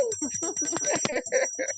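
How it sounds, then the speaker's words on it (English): A bell rings steadily during a lively church gathering, its high ringing tone running under loud overlapping voices and shouting. "Ring the bell."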